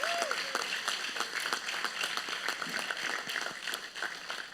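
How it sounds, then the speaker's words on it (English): At a high school football banquet, a crowd gives a round of applause for the JV football team, steady moderate clapping heard from some distance that lasts the whole few seconds. "Let's give a round of applause for our JV football team."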